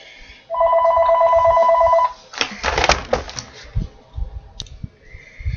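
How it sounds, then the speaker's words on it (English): A house phone rings once nearby, a bright electronic trill lasting about a second and a half, followed by clattering handling noises and light rustling. "somebody calls in the house phone"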